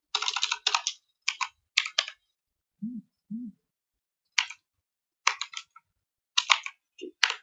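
Keystrokes clatter on a computer keyboard in quick, close bursts separated by pauses, with two short low hoot-like tones sounding in the middle.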